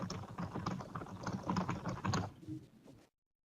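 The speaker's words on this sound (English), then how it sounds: "Here, I can type my notes." Notes being typed on a computer keyboard, a steady run of close, clicky keystrokes for about three seconds before stopping abruptly into silence.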